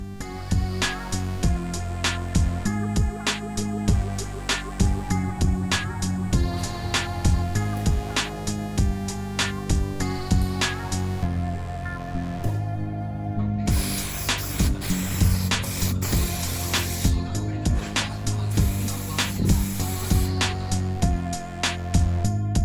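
A spray gun hisses in long broadband bursts while painting a Mercedes-Benz 190E Sportline W201 body, partly masked by steady background music throughout.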